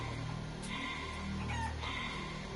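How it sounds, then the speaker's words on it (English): Chickens clucking and crowing in the Shenmue III video game, steady bird calls layered over continuous game music and ambience with no break for the whole stretch. "chasing chickens"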